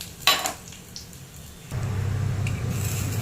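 Onions and curry leaves hitting hot oil in a pan for a brinjal curd curry, a steady close sizzle and bubbling that swells in partway through, after a brief clink of a utensil.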